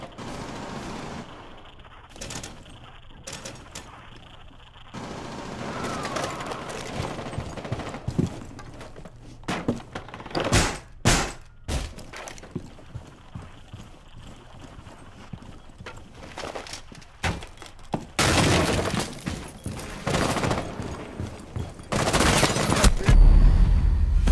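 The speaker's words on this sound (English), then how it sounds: "I had a machine gun duel with the shield and I came out okay." Video game machine gun fire from a team deathmatch bomb round of Rainbow Six Siege on the Kafe Dostoyevsky map. Rapid bursts and scattered shots come in uneven clusters over busy game noise, with a dense stretch of fire near the end.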